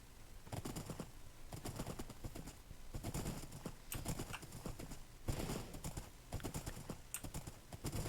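Horse hooves clip-clop in a video game, a fast steady galloping rhythm of sharp hoof strikes that continues loud and close throughout, with brief pauses between bursts.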